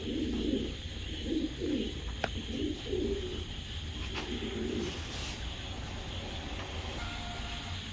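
Black racer pigeons coo softly several times in quick succession early on, faint against a steady background rumble and hum.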